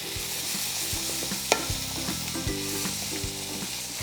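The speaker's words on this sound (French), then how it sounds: "On rajoute les chouchous coupés en cubes. Voilà, bien mélanger le tout." Diced chayote sizzles loudly in a hot pan as it is stirred for a gratin, an even, close frying hiss with rhythmic scraping strokes and one sharp utensil knock, no voices.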